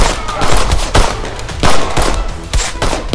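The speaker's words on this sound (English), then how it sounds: "Oh, Eva, return fire!" Rapid video game gunfire rattles in bursts during a shooting battle, loud and close. The shots come in dense volleys with brief gaps.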